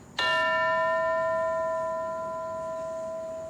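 A single bell strikes once in a school classroom, with clear ringing tones that slowly fade over several seconds, alone with no voices.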